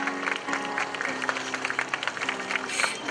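Applause from a crowd at an outdoor street event in front of Hongdae, steady clapping throughout with a background hum and voices underneath.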